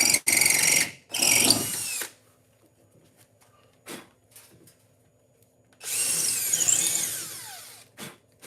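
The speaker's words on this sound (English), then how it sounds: "So I'm going to drill the rest." A power drill drills in close, loud bursts: two short runs at the start, a few faint clicks, then one longer whining run with a rising pitch, and a brief final burst.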